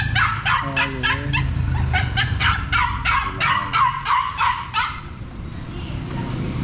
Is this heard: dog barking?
yes